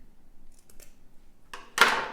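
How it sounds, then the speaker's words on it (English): Scissors snipping through the middle of a fabric hair tie loop: a few faint ticks, then one sharp, close cut near the end, in an otherwise quiet room. "you can take your scissors and you can cut through the middle of this loop"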